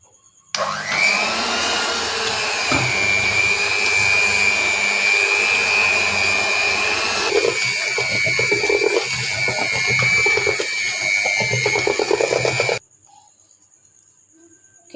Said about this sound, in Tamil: இப்போ வந்து நான் பீட்டரால் அடித்து கொள்ள போகிறேன்.